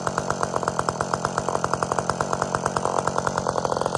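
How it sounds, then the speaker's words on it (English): Close, loud chainsaw with a ported engine and a custom-designed muffler pipe, screaming at high revs with a steady, fast, pulsing exhaust throughout and no voices. "anybody looking for a good, screaming, newer saw, this has got a muffler, a pipe on it that I designed, and it's ported by Ripsaw"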